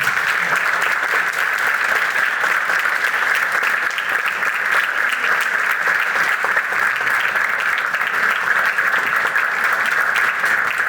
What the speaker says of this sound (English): I would like to have one big round of applause for Bozidar